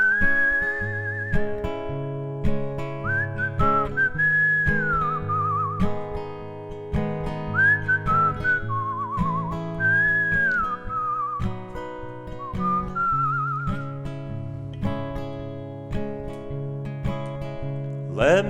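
A man whistles a tune in a barn, clear melodic phrases close up over a steady instrumental accompaniment, continuing for a long stretch.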